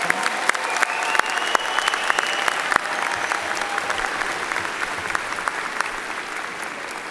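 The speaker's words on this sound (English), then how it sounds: "Please give Dr. Kristen Heddy and the Winthrop Commencement Band a round of applause" A large crowd at a Winthrop University commencement ceremony applauds steadily after a band concert, dense clapping filling the space at a fairly even level for several seconds with no voices on top.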